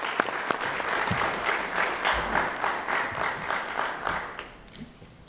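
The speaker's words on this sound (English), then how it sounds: "Let's have a round of applause for everyone participating." Audience at a middle school young writers' evening gives a sustained round of applause, clapping swelling in pulsing waves and tapering off toward the end.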